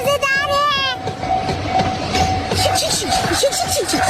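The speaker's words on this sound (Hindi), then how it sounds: "मिनी ट्रेन भी चलती है इस पार्क में" Cartoon mini train running through a park, rhythmic wheel clatter on the tracks with a short horn-like tone at the start, heard under and between talking voices.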